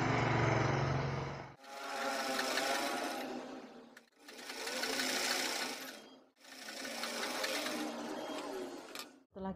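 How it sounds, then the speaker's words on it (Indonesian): Sewing machine running in three bursts, each a few seconds long with short pauses between, stitching the seam of a child's dress; loud, close and steady, with no talking. "Selanjutnya ini kita jahit."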